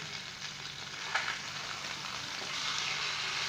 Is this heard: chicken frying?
yes